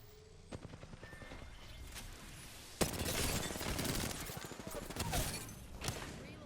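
Quiet, distant gunshots come from the video game Apex Legends, starting with scattered shots and then a louder burst of sustained fire. A voice speaks faintly underneath.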